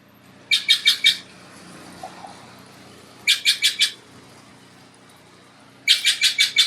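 A bird sings in Wawona's Mariposa Grove, three bursts of four or five bright, rapid chirps each, spaced a few seconds apart against a quiet background.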